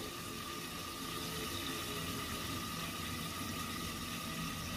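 Water poured into a covered cooking pot while making Satara-style spicy mutton rassa, a continuous broadband rush and hiss that stays steady and close throughout.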